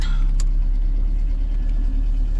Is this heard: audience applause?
no